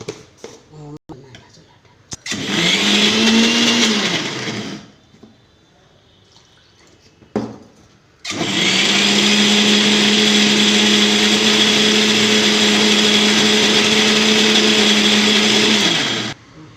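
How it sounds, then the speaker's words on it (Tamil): A mixer grinder grinding coriander and chili powder into masala for fish curry whirs loudly in a short burst, stops, then runs again in a long steady grinding spell, with brief clatter in between. "மீன் குழம்புக்கு மசாலா அரைக்க போகிறேன்."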